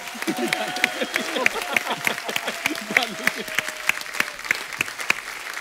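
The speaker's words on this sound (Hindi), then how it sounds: "जोरदार तालियां" A TV comedy show studio audience bursts into loud, sustained applause, many hands clapping together with a few cheers mixed in.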